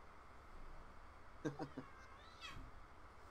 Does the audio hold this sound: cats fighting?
yes